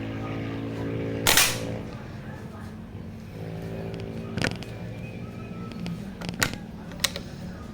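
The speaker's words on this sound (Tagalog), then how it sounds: "So pangalawang putok using Meteor pellet." A single sharp shot from a tactical PCP air rifle with a Manlapat barrel, firing a Meteor pellet, cracks over low background noise, followed by a few fainter mechanical clicks.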